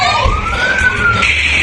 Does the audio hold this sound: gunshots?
no